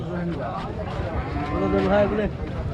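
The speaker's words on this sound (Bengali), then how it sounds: "এটা কি জাতের গরু গো ভাই" Cattle at a livestock market in Rajshahi let out a drawn-out moo close by, amid the murmur of people talking.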